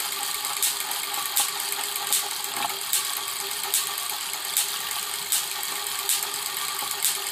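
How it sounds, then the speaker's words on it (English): A large Wimshurst electrostatic generator spinning, a steady mechanical whir with a regular faint ticking click every three-quarters of a second or so, alone and without talk. "So there's a demonstration of our Wimshurst electrostatic generator."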